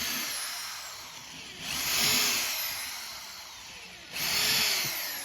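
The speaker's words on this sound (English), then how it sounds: "They need drilling, both ends." A power drill bores into wood for a tabletop build, its motor whining in two sustained bursts that rise in pitch as the bit bites, with a quieter idle spell between them, close and loud.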